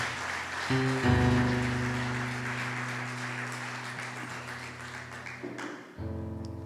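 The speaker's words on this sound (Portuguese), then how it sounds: "vamos aplaudir o nosso Senhor Jesus" Congregation clapping during a church worship service, a steady wash of applause over a held organ or keyboard chord that drops out and returns near the end.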